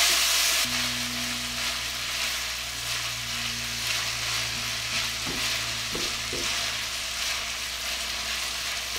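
Sausage frying in a pan, a loud continuous close sizzle with a low steady hum underneath and a few brief knocks from a utensil.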